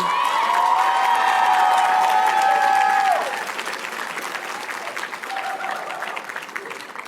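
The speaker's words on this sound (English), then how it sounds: "Give them a round of applause for being here for you." Graduates and families at a spring commencement ceremony applaud together, with some whoops and a sustained tonal whistle or horn-like sound over the clapping before it drops to a quieter, thinner round.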